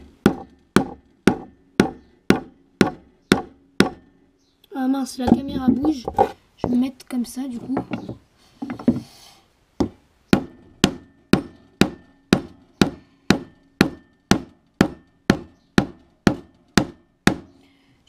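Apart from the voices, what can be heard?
bigger hammer striking a wooden stick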